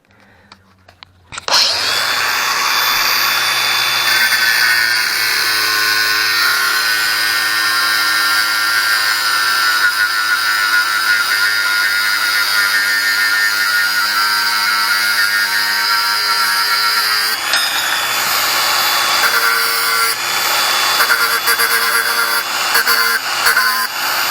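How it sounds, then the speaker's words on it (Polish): An angle grinder, used while repairing a heavy harrow, spins up and whines steadily and loudly for over twenty seconds, with a brief change in pitch near the end. "Tu mam z pracy jeszcze wziąłem szlifierę"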